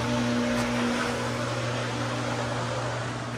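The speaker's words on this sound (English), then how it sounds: "Now I'm going to turn the filter pump back on." Swimming pool filter pump running after a backwash, a steady mechanical hum with strong low tonal drone and even broadband hiss, constant and close with no pauses.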